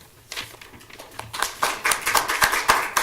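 Scattered audience clapping after a talk on teaching experience, starting faint and thin, then swelling into louder, denser applause from a small group with distinct individual claps.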